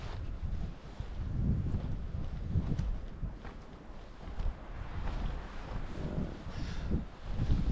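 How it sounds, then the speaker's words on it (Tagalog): Strong wind gusts across a remote wild campsite, roaring low and rumbling against the microphone in uneven surges with no voices. "Lakas po yung hangin na yun."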